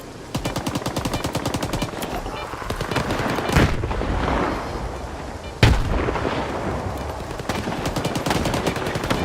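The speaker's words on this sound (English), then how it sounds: "Who's shooting at me?" Dense in-game gunfire from STALKER 2: rapid automatic bursts with a few heavy booming shots, loud and continuous through the whole stretch, with no talking over it.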